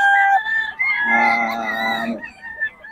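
A young stag rooster at a market crows loudly and close, one long drawn-out call with a hoarse rise and fall, and faint background noise around it.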